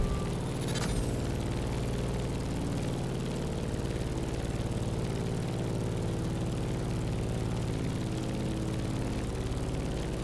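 Airplane engine in the driving game The Crew Motorfest, flying through turbulence near a volcano: a steady, loud propeller drone with a low humming rumble, constant throughout with no talk.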